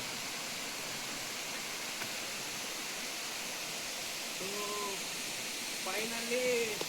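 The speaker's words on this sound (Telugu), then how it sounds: "వాటర్ ఫాల్స్ అయితే చాలా బాగుంది" Palakondalu waterfall gives a steady, broad rushing roar throughout, with voices talking faintly over it near the end.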